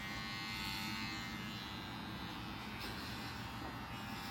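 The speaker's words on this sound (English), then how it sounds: "I did not think they were going to shave this much" Electric clippers shave a woman's head in preparation for a hair transplant, a steady close buzzing drone that runs unbroken throughout.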